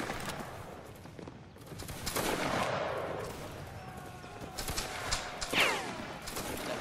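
A line of musket fire in the Roblox game Waterloo: overlapping volleys of crackling shots at mid distance blur into a continuous rumble, with a few sharper reports standing out.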